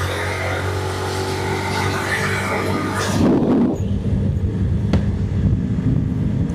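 Hero Xtreme 125R motorcycle ridden at full throttle, its engine note droning steadily and loud with strong wind rush past the microphone, briefly dipping and rising again mid-way as it shifts up through the gears.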